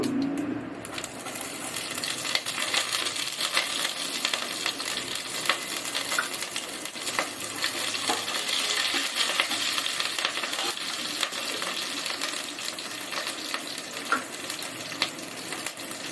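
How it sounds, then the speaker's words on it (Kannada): Urad dal and chilli frying in a pan, a continuous close crackling sizzle that runs steadily throughout with scattered pops and faint clinks. "ಒಂದಿಷ್ಟು ಉದ್ದಿನ ಬೇಳೆ ಹಾಕಿ ಫ್ರೈ ಮಾಡ್ಕೊಳ್ಬೇಕು"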